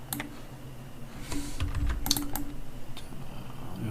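Computer keyboard keys tapped in a short burst of shortcut presses for copy and paste, close and clear over a low room hum, with no voices.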